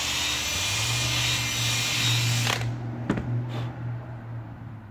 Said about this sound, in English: Manually widening that hole real quick.